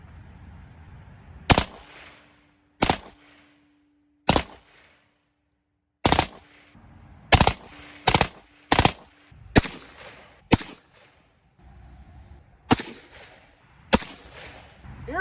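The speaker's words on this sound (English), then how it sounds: "Let's get some suppressed super semi going on" Suppressed semi-automatic gunfire outdoors: about fourteen loud, sharp single shots at irregular intervals, some fired in quick pairs and triplets, each followed by a short decaying tail, with near silence between shots.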